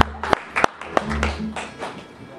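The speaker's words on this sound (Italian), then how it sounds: "Fate un applauso a Danny De Stefano e Twin Flyers." An audience at a Christmas Blues Party applauds Danny De Stefano and Twin Flyers, with a few sharp claps followed by a brief patter of clapping while a voice talks over it.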